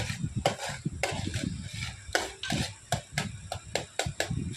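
A spoon or spatula scrapes and clatters repeatedly against a pan as moong dal roasts, irregular stirring strokes with a light dry sizzle underneath, close by.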